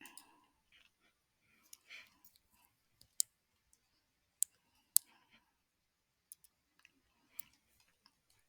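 Sharp, sparse clicks of a computer mouse during SketchUp work, single taps spaced irregularly over several seconds, close and quiet with near silence between.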